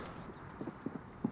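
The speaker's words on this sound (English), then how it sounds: "I hear footsteps" Faint, scattered footfalls in a Call of Duty match land as a few soft thuds over quiet background, with no talking.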